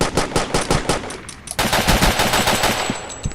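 Weapon fire in the 2D shooter game Boring Man: rapid automatic bursts of gunshots, loud and continuous, with a brief pause and a shift to heavier, denser firing partway through.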